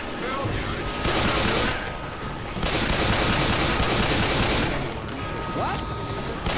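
Continuous rapid gunfire from a shooter video game, with dense bursts of automatic shots rattling almost nonstop in two or three loud stretches, sounding close and harsh.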